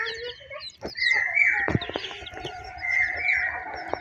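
Chicks cluck and cheep close by, a mix of sustained calls and short peeps with a few sharp knocks in between.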